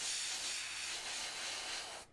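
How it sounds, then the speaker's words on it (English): A spray gun lays paint onto a Harley part in a steady, close, airy hiss that holds for about two seconds, then cuts off abruptly as the trigger releases. "I'm going to start off the corner and I'm just going to spray it a little bit and then just lightly fog over the whole thing"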